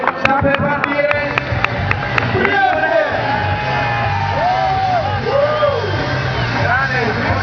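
Crowd at a Red Bull Bike Night freestyle event cheering and shouting loudly for a rider's entrance, a steady roar of voices with whoops under an announcer's talk.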